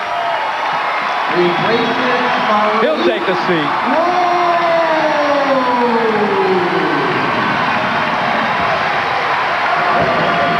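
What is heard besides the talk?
basketball crowd cheering, standing for Malik Rose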